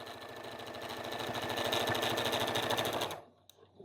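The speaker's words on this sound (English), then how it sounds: "we're just going to run a 1/4-inch seam all the way around 3 sides" A sewing machine stitching a quarter-inch seam around a crayon holder, a fast steady mechanical chatter running loud and close for about three seconds before stopping abruptly, followed by a few faint clicks.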